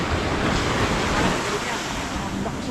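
Strong sea water churns and surges around a fishing spot on the sand, a steady rushing wash of waves and wind noise, moderately loud with faint voices underneath.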